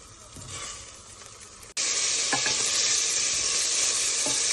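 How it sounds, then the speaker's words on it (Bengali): Paneer cubes dropped into a spoonful of hot ghee in a wok, a soft sizzle that jumps abruptly into a loud, steady close frying hiss, with a few light scraping stirs. "তারপরে 1 চামচ ঘি কড়াইতে গরম করে তার মধ্যে পনিরগুলো দিলাম"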